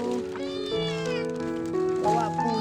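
A calico kitten, found as a stray, meows repeatedly in high, drawn-out cries close by, with a person talking over it.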